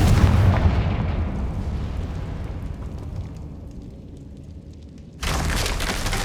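A Confringo fire spell in Hogwarts Legacy bursts in a loud, close explosive blast that rumbles and fades over several seconds, followed by an abrupt return of louder ambient noise.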